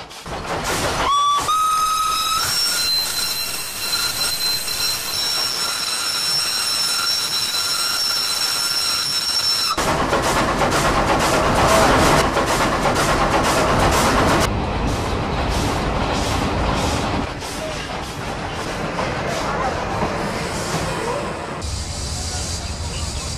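Fairy Queen, the oldest working steam locomotive, runs on a heritage line, its sustained whistle sounding clearly before giving way to continuous loud rolling wheels, rail clatter and steam chuffing.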